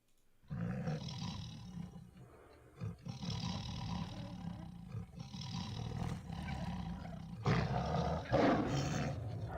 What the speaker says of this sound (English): There's that tiger in there.